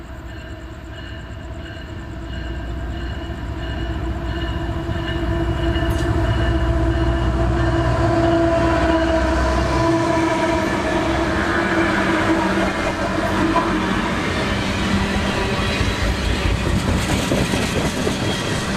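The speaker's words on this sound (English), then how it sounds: "our last shot of the train as it speeds north into the dark forests of North Florida" A train rolls past in Jacksonville, Florida. It starts faint, swells into a loud, steady rumble of wheels and cars with a rhythmic clatter, and keeps rushing by to the end without voices.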